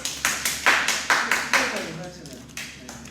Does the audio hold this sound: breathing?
no